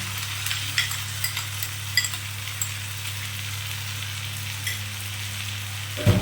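Pointed gourd paste frying with browned onion in a pan over lowered heat, a steady close sizzle with occasional light stirring scrapes, no voices, ending in a brief louder knock.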